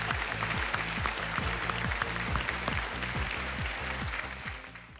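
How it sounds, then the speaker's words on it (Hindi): Quiz show studio audience clapping in steady, dense rhythmic applause, loud and sustained throughout, fading slightly at the end with no talk over it. "ताली बज गई पहले से"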